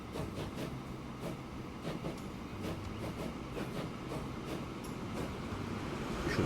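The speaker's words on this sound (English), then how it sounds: "you should pass another train coming by" Trains in Transport Fever 2 roll along steadily, with a continuous rumble and regular clickety-clack beats from the wheels over the rail joints. No one speaks, and the sound builds slightly louder toward the end.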